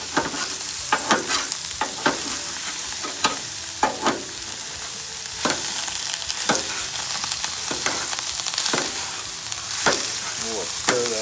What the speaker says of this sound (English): I'm gonna take my scraper, just come along here, cut these.